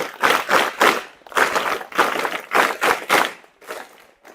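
Schoolchildren clap in unison in a rhythmic series of loud, rounded bursts grouped in threes, pausing briefly between groups before the claps trail off.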